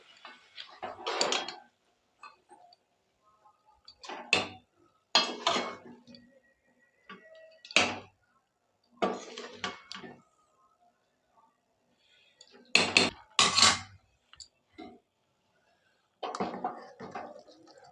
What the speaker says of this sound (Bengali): এবার আমি এগুলোকে হাঁড়ির মধ্যে দিয়ে দেবো